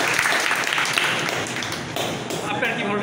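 Participants at a buffet management training clap loudly together. The dense, steady applause runs the whole way through, with talk over it.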